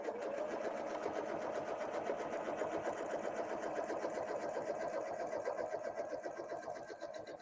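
Sewing machine running continuously during free motion quilting with rulers, a fast, even needle chatter heard close and fairly quiet without pauses or speech.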